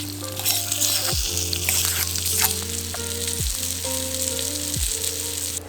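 Vegetables and sage fry in a pan at a riverside cave campsite in Australia, giving a steady close sizzle that runs throughout over a faint tonal background.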